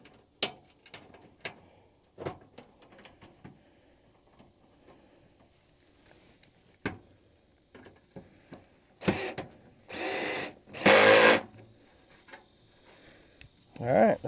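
Power drill driving screws into metal raised garden bed panels, in a few loud bursts near the end after scattered clicks and handling knocks, with a person speaking briefly.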